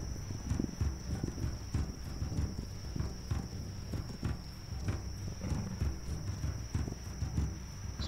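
Hooves clip-clop at a walking pace in a video game, a quiet, steady rhythm of hoof falls with a thin high insect-like tone running above.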